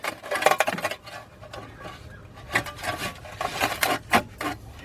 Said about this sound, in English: let's bend our shield back into place.